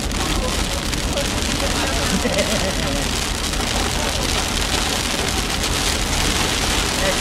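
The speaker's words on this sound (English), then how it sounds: "oh, that's hail." Hail batters a car in summer, a constant heavy clatter on the body and roof heard from inside, with an engine running underneath and people talking faintly.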